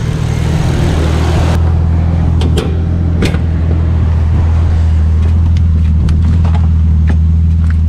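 A car's engine drones through custom Dose exhaust pipes, a heavy, steady low hum that stays loud and close throughout, with a few faint knocks and clicks over it.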